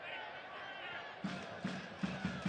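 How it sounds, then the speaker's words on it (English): A soccer stadium crowd at an FC Tulsa home match roars and cheers for the home side, heard at a distance as a broad wash of noise, with a commentator talking over it and a few thumps toward the end. "now the crowd really trying to get behind the home side"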